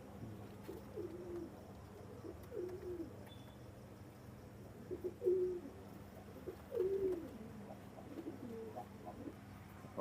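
Pakistani high-flying pigeons coo in soft, repeated low phrases at close range, with several distinct coos spread across a quiet background.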